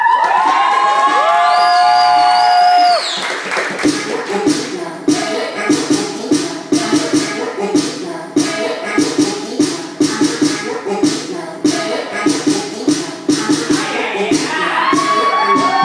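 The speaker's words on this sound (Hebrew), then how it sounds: "תנו להם כפיים." Audience claps and cheers for a fire dance performance by a group of women students, a dense, continuous burst of applause with shouts, after a few seconds of music.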